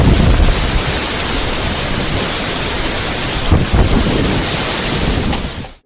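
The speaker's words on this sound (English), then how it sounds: "the sheer power and noise of that storm are enough to give anyone nightmares" Violent thunderstorm caught on a trail camera: a dense, loud roar of heavy rain and wind with a deeper rumble of thunder surging midway, cutting off abruptly at the end.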